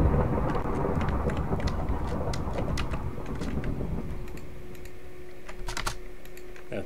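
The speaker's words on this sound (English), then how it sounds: "That thunder is loud." A low thunder rumble in Minecraft rolls through, loud, with quick keyboard typing clicking over it in bursts.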